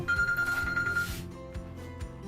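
A phone ringtone rings from 0.1 to 1 s as a steady electronic tone, fairly close, then cuts off. A low background noise continues underneath.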